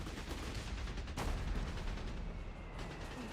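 Heavy machine gun fire in the strategy game Company of Heroes 3 makes a dense, continuous rattle of battle noise, with one sharper burst near the middle and no voices.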